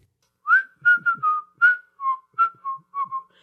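A person whistles a short tune alone, a string of about nine clear, bright notes in a steady, sing-song rhythm, close and fairly loud with silence between phrases.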